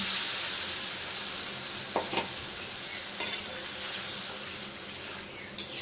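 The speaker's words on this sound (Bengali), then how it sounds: "সর্ষে বাটাটাকে একটু ফুটিয়ে নেব।" Strained mustard paste cooks in a pan over chili and turmeric already fried in oil, the base for a sour rohu fish curry, with a quiet steady sizzle and a few sharp stirring clinks near the middle and end.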